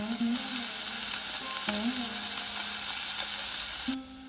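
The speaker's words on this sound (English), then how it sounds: "Heat with 1 tablespoon of oil in a pan and fry pork." Pork pieces frying in a tablespoon of oil in a pan, a steady close sizzle running throughout with a few brief tonal clinks and scrapes of a utensil against the pan.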